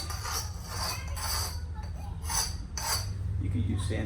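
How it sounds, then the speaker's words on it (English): A small plastic piece scraped against cement in a garage setting makes repeated rough rasping strokes, about four bursts spaced roughly a second apart over a low steady hum, close and moderately loud. "I'm gonna scratch this on the cement down here"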